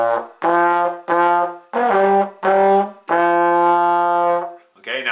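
A trombone plays the opening notes of Twinkle Twinkle Little Star as a series of separate sustained brass tones, clear and close, ending on a longer held note.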